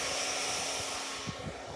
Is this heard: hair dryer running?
yes